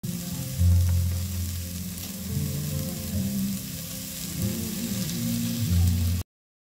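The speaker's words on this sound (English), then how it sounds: "I added onions to my sufuria, then waited for them to dry up," Onions fry in oil in a sufuria for pilau, a steady loud sizzle with crackling and a low hum, heard alone without talk.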